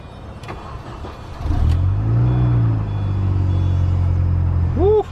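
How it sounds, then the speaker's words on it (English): A Mini Cooper engine cold-starts with a short crank that catches into a loud, steady idle rumble, holding close and continuous for several seconds, with a brief rev blip near the end. "Cold start."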